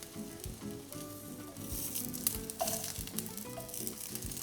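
Eggplant fries in a pan for adobong talong, giving a steady, close sizzle with scattered pops and crackles throughout and no voices over it.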